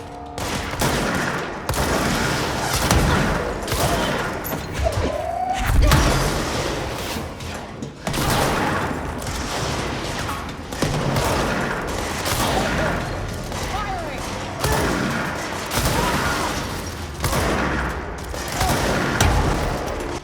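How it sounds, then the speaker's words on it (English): Shotgun blasts crack out repeatedly in the video game Control, a dense run of heavy gunfire and booms spread over the stretch, loud and close, with a voice talking over parts of it. "Shotgun is a lot more effective when they don't focus on me."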